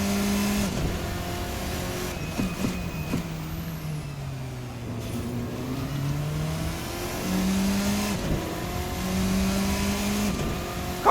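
A Formula RSS 4 race car engine in a sim racing game revs up and down through gear changes, a steady buzzing drone with rising and falling pitch sweeps that runs continuously with no talk.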